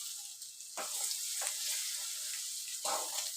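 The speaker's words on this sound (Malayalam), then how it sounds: "ഉണക്കമുളക് ഒരു 3 ഉണക്കമുളക്, കറിവേപ്പില ഇത്രയും ഇട്ട് വഴറ്റിയെടുക്കാം." Ginger, three dried chillies and curry leaves sauté in hot oil for a beef pickle, giving a steady, close sizzle with brief bursts of stirring and no talk.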